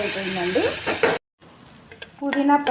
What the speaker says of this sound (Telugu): ఈ పుదీనాని కొంచెం సేపు ఆయిల్లో ఫ్రై చేసుకోవాలి.